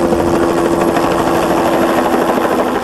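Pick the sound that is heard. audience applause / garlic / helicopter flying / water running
helicopter flying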